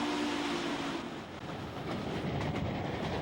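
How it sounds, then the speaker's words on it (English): An early 20th-century steam train runs on rails on the Western Maryland Scenic Railroad, a steady loud rumble and roar of wheels and cars close by, without any voices. "Pulled by a steam train from the early 20th century."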